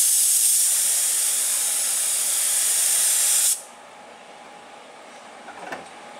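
Hydrographics activator sprayed onto film floating in a dipping tank of 90-degree water, a loud, steady aerosol hiss for about three and a half seconds that cuts off abruptly, followed by quiet room tone.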